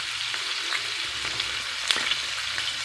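Eggs cook in a pan in a home kitchen, giving a steady, close crackling sizzle with small pops and occasional stirring scrapes. No voices are heard.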